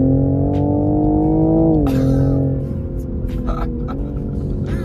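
A new Toyota Supra's exhaust note swells loud and close as the car accelerates hard on road or track, its rising engine drone dipping briefly at gear changes.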